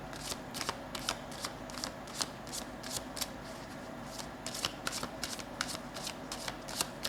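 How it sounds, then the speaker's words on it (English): A deck of tarot cards shuffled by hand at close range, giving soft riffling rustles and crisp snapping flicks in an irregular rhythm across several seconds, quiet and free of speech. "Let's just draw 2 more cards here."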